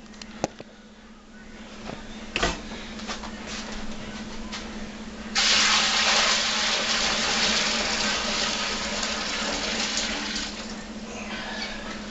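Strained plum wine must pours steadily into a bucket, a sustained splashing gush that swells after a few clinks and runs on for several seconds over a low hum, close and with no talking.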